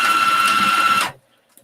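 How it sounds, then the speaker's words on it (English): A sewing machine runs a short burst of back stitching on a shopping bag, a steady close mechanical whir with a high tone that stops abruptly after about a second, leaving near silence. "I'm back stitching here."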